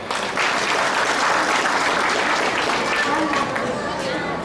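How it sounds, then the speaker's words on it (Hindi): A seminar audience at a business preview event breaks into steady, dense applause, many hands clapping together at full volume for several seconds, with faint crowd murmur underneath. "एक महान गुरु अभियान की तरफ से एक जोरदार ताली हो जाए।"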